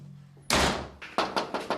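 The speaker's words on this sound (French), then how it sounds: "le propriétaire nous a violemment claqué la porte au nez" A house owner slams a door shut with one loud, booming bang that trails off, followed by four quicker, lighter thuds in a steady rhythm, close and clear.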